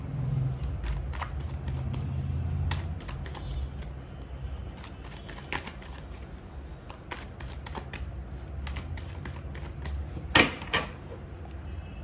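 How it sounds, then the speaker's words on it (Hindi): Tarot cards are shuffled and drawn by hand: a steady papery riffle with soft slaps and flicks, close and fairly quiet, with a sharper snap near the end and no talking. "अब हम निकालेंगे टैरो से कुछ कार्ड्स"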